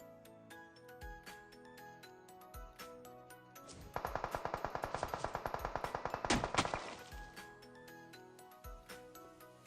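A rapid burst of automatic gunfire in PUBG Mobile rattles for about three seconds, framed by scattered single shots and sharp impacts before and after.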